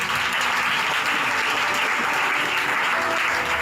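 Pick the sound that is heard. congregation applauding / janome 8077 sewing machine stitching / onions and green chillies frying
congregation applauding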